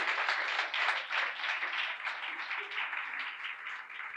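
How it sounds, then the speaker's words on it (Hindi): A studio audience at a Christian television program claps steadily, a full, continuous round of applause with a slight rhythmic pulse, no talking over it. "ज़ोरदार तालियां बजाइए।"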